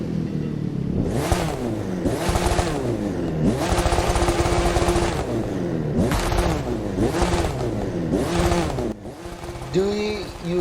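Ford Focus engine in The Crew 2 on a rally drift run, revving up and down in repeated loud bursts with gear-change dips and rising pitch sweeps, close and continuous.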